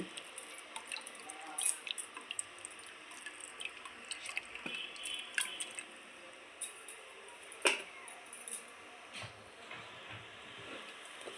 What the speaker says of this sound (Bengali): এবার দেবো তেল।